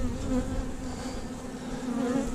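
Honeybees buzzing steadily around an open hive during a Demaree swarm-control inspection, a close, continuous drone with a tonal hum, no voices.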